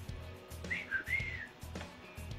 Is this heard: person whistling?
yes